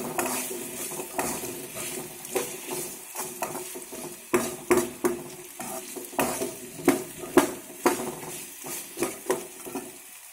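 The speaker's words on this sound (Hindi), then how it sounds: "गैस का फ्लेम बिल्कुल कम पे है, लो फ्लेम पे पका रहे हैं हम इसको।" Apple chutney cooks in a pan on a low gas flame, with a gentle sizzle under close, rhythmic spoon scrapes and clinks against the pan that get stronger midway, with no voices.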